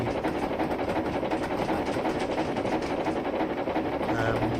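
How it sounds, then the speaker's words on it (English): Thomas the steam engine chuffs in Train Simulator Classic, a dense, continuous rapid rhythmic chugging with mechanical clatter, loud and steady throughout, no speech over it. "Once Thomas starts chuffing, he's quite loud."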